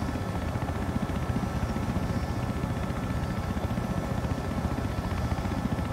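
A helicopter in the Battlefield Hardline video game drones with a steady, rapid rotor chop and broad engine roar, loud and unbroken throughout.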